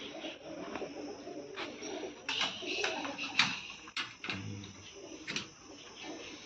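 Pigeons coo softly in the background amid shuffling and occasional knocks and clatter, with no one talking.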